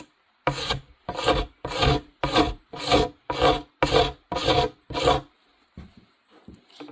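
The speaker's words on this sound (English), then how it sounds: "Now I'm going to scrape some more." Rhythmic rasping strokes of a hand scraper across wood, nine even passes about half a second apart, close and clear, followed by a few softer, shorter scrapes.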